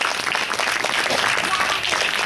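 Devotees at a Hanuman temple gathering clap for a donor, a brief burst of moderate, dense applause with a voice speaking over it.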